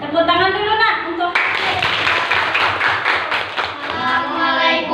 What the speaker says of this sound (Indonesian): Tepuk tangan dulu, Nak